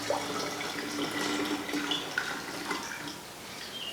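Hot mead must, a honey and water mixture, poured back into a jug, giving a steady close splashing, gurgling flow that runs through the whole few seconds with no talk.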